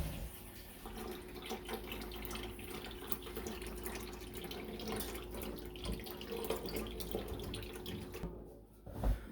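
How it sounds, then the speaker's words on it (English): Cold water runs from a tap into a kitchen sink, a steady close splashing rush that fills the whole stretch and briefly cuts off near the end. "I'm going to fill the sink up with cold water"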